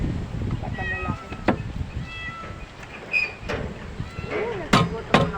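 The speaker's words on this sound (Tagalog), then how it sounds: "Nagsigot ang mga pusa." Several cats meow outdoors at a street vendor's stall, a few thin mewing calls rising between people talking and scattered clatter nearby.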